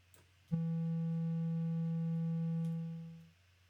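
A single sustained synthesizer note with a pure, steady tone holds for a few seconds, then fades smoothly away to silence after the key is let go, heard alone.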